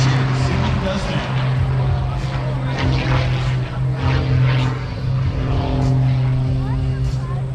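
An aerobatic propeller airplane performs a torque roll at an airshow in Orange County, New York, its steady droning engine hum carrying at a moderate distance throughout.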